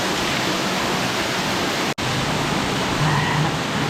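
A waterfall pours into a canyon pool, giving a steady, dense roar of falling water that stays loud and even throughout, with no voices.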